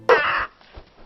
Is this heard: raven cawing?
yes